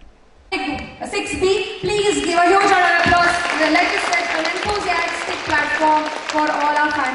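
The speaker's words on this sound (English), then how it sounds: "please give a huge round of applause" A school music competition audience applauds its finalists: a sustained wash of clapping that starts abruptly and holds steady, with tonal sounds and voices mixed in throughout.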